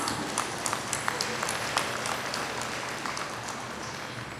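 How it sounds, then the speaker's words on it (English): A crowd applauds committee and board members at a Hmong New Year celebration in Fresno. The clapping is a dense, continuous wash under a steady hall ambience, with a few sharper claps standing out. "Let's give them a round of applause."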